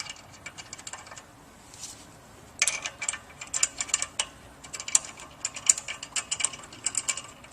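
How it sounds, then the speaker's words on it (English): Bolts go into a Pentax vertical centrifugal pump, with close metallic clicking and ratcheting that sound in quick irregular bursts, loud and near, and no talk. "We'll just begin inserting the bolts."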